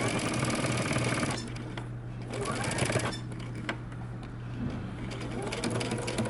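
A sewing machine runs in steady, continuous stitching along a button-up shirt seam, with a close motor whir and rapid needle clatter throughout and a slight change in pace partway through.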